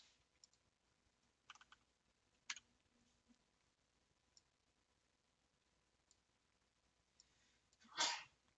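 A single sharp sneeze bursts out near the end of a quiet room scene, preceded by a few soft keyboard clicks and taps.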